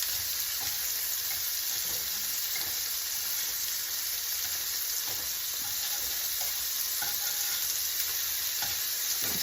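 Shrimp seasoned with salt and pepper fry in a hot pan, giving a steady, close, dense sizzle with faint crackles and a few light scrapes of turning throughout, no voices over it.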